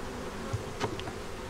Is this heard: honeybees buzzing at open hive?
yes